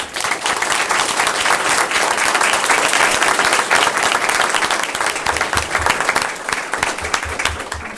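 Audience at a school committee meeting applauding award-winning students, a loud, steady round of clapping from a roomful of people that holds for several seconds before easing slightly toward the end.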